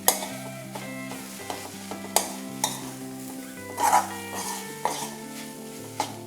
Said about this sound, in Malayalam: നമുക്കിതെല്ലാം കൂടി ഒന്ന് ഇളക്കാം.